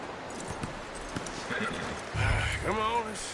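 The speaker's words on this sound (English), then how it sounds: "You should really tether that horse" Horse hooves clopping at a walk in Red Dead Redemption, soft and intermittent under a voice speaking, with a brief snort or whinny-like sound near the end.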